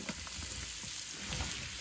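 Sliced zucchini and onions sizzle in a frying pan on a home stove, a steady soft crackle with small pops and occasional stirring, heard close without talk.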